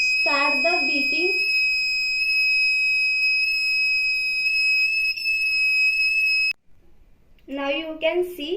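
An electronic buzzer on an IoT greenhouse system over GSM beeps with steady high-pitched tones for several seconds, then cuts off abruptly, with a person talking nearby before and after.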